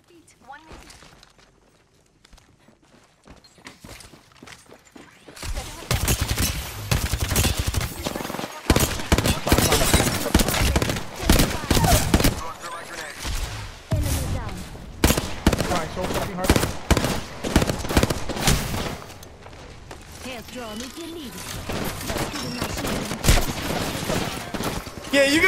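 Apex Legends gunfire erupts as a team fires on an enemy: dense, rapid bursts and volleys after a quiet start, loud and continuous with brief lulls, while players talk over the shooting.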